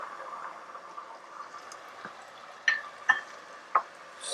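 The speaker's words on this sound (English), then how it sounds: "we're going to continue sauteing until most of that liquid is gone" A Greek burger mixture sautés in a pan after a splash of Greek brandy, giving a soft, steady sizzle with a few sharp utensil clicks and scrapes toward the end and no voices.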